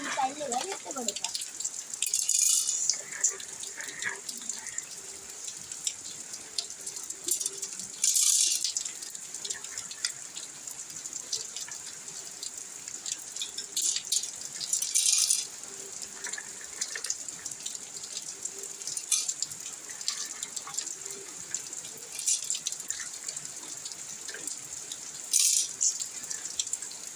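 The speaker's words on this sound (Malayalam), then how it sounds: "നമ്മളിപ്പോൾ ബൗളിലേക്ക് കല്ലിട്ടിട്ടുണ്ട്." Stones dropped into a bowl of water make a few scattered splashes and clinks spaced several seconds apart over a steady background hiss, with faint voice-like sound at times.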